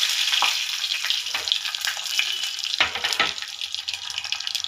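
Mustard seeds, cumin and dried red chillies crackle and sizzle in hot oil for a gongura dal tempering, a steady bright hiss with sharp pops and spatters throughout, close and fairly loud, with no voices.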